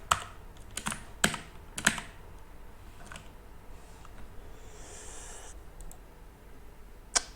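Typing keyboard shortcuts on a computer keyboard: a handful of crisp, distinct key clicks spaced irregularly over several seconds, close but quiet, with faint background hiss between presses.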